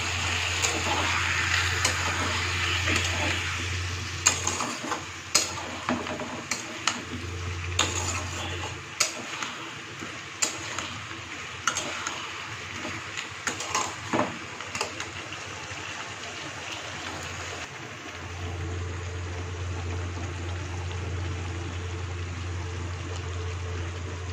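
A spice paste cooked down with water added little by little for a potato, pointed gourd and paneer dish, the spoon tapping and scraping the pan in a steady series over a constant low burner hum.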